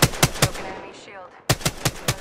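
Rapid bursts of gunfire in Apex Legends, evenly spaced loud shots in two volleys with a short pause between them, close and punchy.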